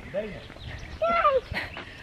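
Horses pass by pulling a kalesa carriage, hooves clip-clopping briefly and fairly close, with voices and other sounds mixed in.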